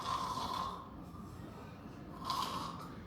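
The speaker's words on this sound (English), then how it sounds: "Snoring." Snoring during sleep with mouth breathing, two slow rasping inhalations several seconds apart, soft and close against a low background hiss.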